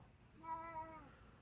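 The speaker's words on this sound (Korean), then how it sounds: "우리 냥냥이가 아주 수다쟁이죠" A cat gives a single faint, drawn-out meow over quiet room background, with no talking.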